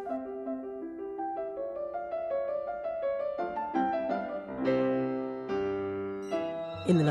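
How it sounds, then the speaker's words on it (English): An early 1700s piano, among the oldest in the world, plays a melodic passage of plucky, bright notes with a thin, quickly decaying tone, close and alone without voices. "This is the sound of the oldest piano in the world."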